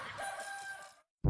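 Rooster crowing nearby, a single loud drawn-out call lasting about a second, followed by a brief pause and then a sudden loud burst of another sound, with no talking.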